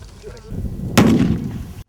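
Bomb technicians set off a small low-power explosive charge during a practical training exercise: one sharp, loud blast followed by a rumbling decay, preceded by low background noise.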